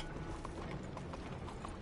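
Horse hooves clip-clop steadily in the Red Dead Redemption II video game, a quick rhythmic patter of hoofbeats blended with a dense, busy background of game ambience.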